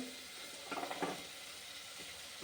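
Carrots and beans tumble into a sizzling pan of sautéed tomatoes for sambar, a short cluster of soft thuds and clatter over a continuous faint hiss of frying.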